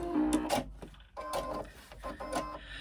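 A sewing machine runs back over a few stitches to lock them while a backpack is sewn. It makes quiet, short mechanical whirring bursts with brief pauses between them.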